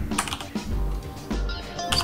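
Typing on a computer keyboard, close and fairly quiet, a quick irregular patter of several keystrokes with short pauses between bursts, no voices.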